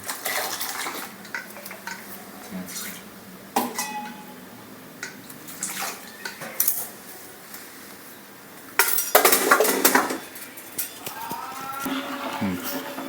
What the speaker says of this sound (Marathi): हे पाणी मिक्स करून टाकायचं गरम पाणी आहे